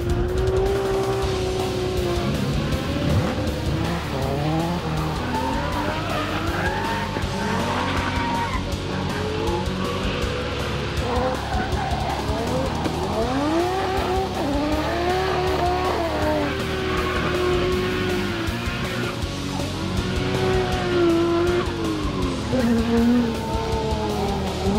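A drift car at New Zealand's Manfield circuit during a D1NZ event skids with long, wavering tire squeals over a steady roaring engine, loud and continuous throughout with repeated rising and falling pitch sweeps.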